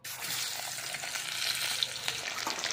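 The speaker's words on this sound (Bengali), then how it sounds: "ভেজে নেবো মাছগুলো।" Fish pieces frying in hot oil in a wok make a steady, dense sizzle up close, with occasional faint spoon or stirring clicks and no talking.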